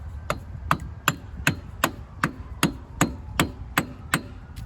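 A hammer taps parts into place while reassembling the rear drive hub of a gas EZGO ST 350 golf cart, giving about a dozen crisp, evenly spaced metallic knocks, fairly close and alone.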